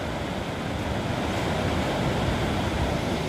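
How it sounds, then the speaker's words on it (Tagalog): A strong, fast river current rushes loudly at Lupi, Camarines Sur, a dense continuous roar of water close by with a windy, surf-like wash and no pauses. "Sobrang lakas ng agos na yan."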